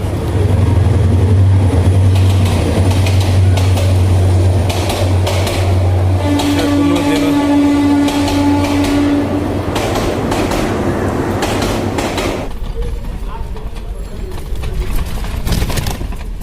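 Train rumbling and clattering through Tejgaon railway station, with a low steady drone, metallic squeals and clicks, loud and close throughout.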